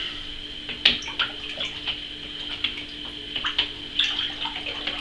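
Water rinses and splashes inside a sterilized jug used for homemade canned peach and elderflower champagne, with irregular sloshing and gurgling bursts over a steady running-water hiss, close and moderately loud.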